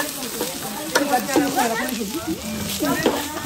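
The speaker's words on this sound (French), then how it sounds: "on a une petite friture" Food frying in a pan in a community kitchen, a steady sizzle running throughout with occasional stirring clatter, while people talk over it nearby.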